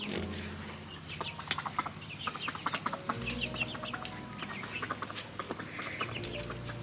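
Chickens foraging near compost bins outdoors, giving soft repeated clucks and a few sharper calls over a low background hum, moderately close and unhurried.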